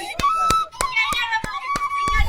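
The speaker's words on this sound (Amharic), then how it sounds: "አጨብጭቡ" Several people clap in a steady rhythm, about eight sharp claps spaced evenly at close range, with voices talking and singing underneath.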